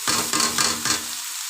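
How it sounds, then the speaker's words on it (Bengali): Pasta and noodles with egg being stirred and fried in a pan, a loud steady sizzle with a few scraping stirs, close up and alone with no talk. "এখন আমি নেড়ে চেড়ে নিব।"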